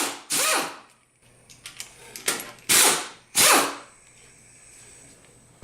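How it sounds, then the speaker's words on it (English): An impact wrench fitted with an 8mm hex removes the inner cover retaining bolts on an MWS pump, firing in three loud, close, buzzing bursts of about half a second each, with quieter clicks and handling noise between them. "Use an impact wrench with an 8mm hex to remove the 8 inner cover retaining"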